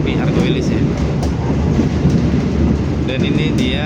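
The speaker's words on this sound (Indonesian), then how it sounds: "kita disusul juga kereta api Doho Penataran di stasiun Wonokromo" Doho Penataran passenger train rolling past at Wonokromo station in Indonesia, a loud continuous rumble with rhythmic wheel clatter and brief high squeals near the end.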